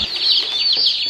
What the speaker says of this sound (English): They're tiny, tiny little chicks.